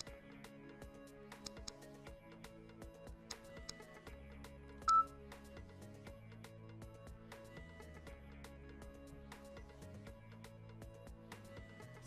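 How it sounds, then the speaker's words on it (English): Telephone keypad tones play on the Mindmaster game show as a lucky number is dialed, a rapid run of short beeps with faint steady tones underneath, fairly quiet throughout. "It's not ringing yet. I've dialed the lucky number."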